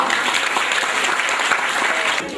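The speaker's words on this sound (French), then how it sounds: "Un grand applaudissement pour M." An audience applauds a yoga master at a Mauritian demonstration, with dense, steady clapping that holds evenly from start to finish at a moderately loud level.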